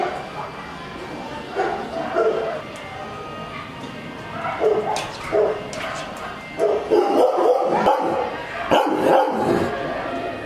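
A Doberman gives several loud, close barks in bursts among other dogs' yips and whimpers at a dog theme park, with people talking throughout.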